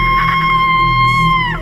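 A woman lets out a loud, sustained high scream on a dark stairway after finding a man lying on the ground. The single piercing note holds steady, then bends downward and breaks off, with no other voices.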